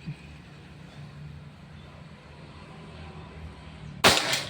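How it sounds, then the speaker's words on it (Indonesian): A single sharp air rifle shot from a Pajero Gun Gen 6 cracks out near the end, loud and close, after a stretch of quiet outdoor background hum. "ini anggap aja tembakan keempat"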